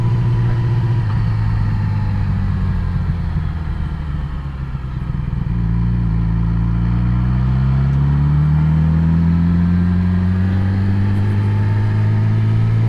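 A 2017 Yamaha R6 sport bike fitted with a Yoshimura RS2 exhaust cruises steadily nearby, its low engine drone holding under wind noise with a gentle rise in pitch as it pulls along.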